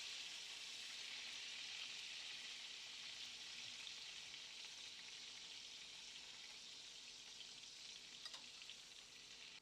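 Shrimp sizzling in hot oil in a pan, a steady, even hiss of frying that continues unbroken at close range, with faint stirring or spoon clinks near the end and no talking.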